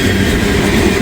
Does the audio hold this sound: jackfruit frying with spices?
no